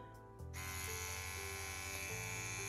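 A CNC X-WE wireless tattoo pen switches on with a short click, then runs with a steady, close, high-pitched electric whine and buzz that holds even and loud.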